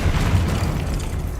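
A Confringo blast spell bursts in Hogwarts Legacy, a loud, low booming explosion that rumbles for about a second and then fades into a dull roar.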